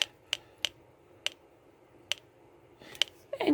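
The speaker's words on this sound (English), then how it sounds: "you can see it clicks back and forth" An electronic LED metronome kit built from a 1981 magazine project ticks through its small speaker, sharp faint clicks at an irregular spacing, about seven in a few seconds, ending with a rustle of handling.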